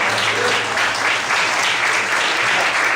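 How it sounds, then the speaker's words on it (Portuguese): A church congregation applauds loudly, a dense continuous roar of clapping from many hands that fills the room with a faint low tone underneath. "Vamos aplaudir bem forte ao Senhor Jesus."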